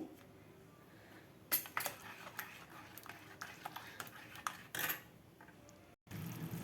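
A spoon stirring sugar syrup in a metal pan for badusha, giving quiet, sporadic clinks and scrapes against the pan with a couple of sharper metallic taps.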